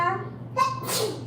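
A single sharp sneeze, close and fairly quiet, in a kitchen where scrambled eggs are being made, with a faint breath before it.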